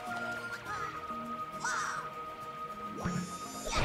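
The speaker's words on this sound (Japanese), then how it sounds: "猫みたいな顔してたカモメさんたちも、ヘルプ来てやったよ、クッパジュニア。" Cartoonish seagull cries from Super Mario 3D World, a rising squawk in the middle and a harsher call near the end, heard over busy game music and effects.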